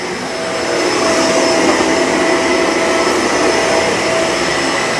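Shark Rotator Pet Lift-Away vacuum cleaner running over a hard floor, a steady loud motor whine and airflow rush that swells up in the first half second and then holds constant throughout, with no talking.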